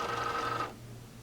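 A Cricut machine cutting adhesive vinyl loaded on a mat gives a steady close mechanical whir with a low motor hum for about two-thirds of a second, then drops to a quieter hum.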